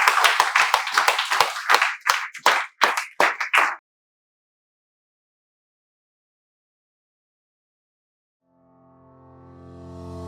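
A short burst of hand clapping as a welcome, several crisp claps in an uneven rhythm for a few seconds, then silence before a soft tone slowly swells in.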